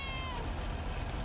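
A cat meowing in the video game Lake, one drawn-out meow rising and falling over soft background game music.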